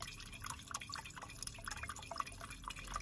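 Coolant water dripping from a car's engine cooling system during bleeding after thermostat work, a quiet series of irregular close drips and small splashes over a low background rumble.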